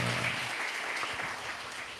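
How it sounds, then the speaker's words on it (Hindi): An audience claps together in a brief, dense burst of applause lasting about two seconds, fairly close and steady with no voices over it. "ऐसे बजाते हैं ताली, जरा एक बार बजाओ।"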